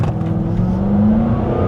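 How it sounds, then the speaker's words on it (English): A Jaguar V8 engine snarls and revs loudly up close, the pitch climbing steadily as it accelerates, alone with no talk. "you have a snarling, angry V8 engine"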